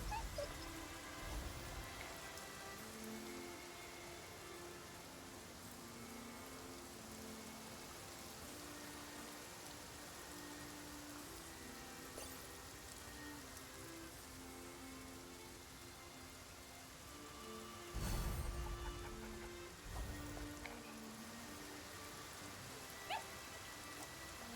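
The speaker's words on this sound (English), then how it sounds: "I like it when it's raining though." Rain falls in the video game Infinity Nikki. A soft, steady patter of rain runs quietly throughout, with faint tonal music and a couple of brief louder bursts. No one speaks.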